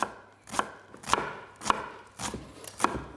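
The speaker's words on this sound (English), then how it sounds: "push your knife through the onion" A knife pushes down through an onion onto a board in steady, evenly spaced cuts, about five crisp strikes close up with a soft crunch between them, and no voices.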